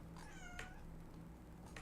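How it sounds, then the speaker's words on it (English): A pet cat meows twice in quick succession, close and fairly quiet, followed by a fainter short mew near the end over low room hiss. "that's my cat meowing."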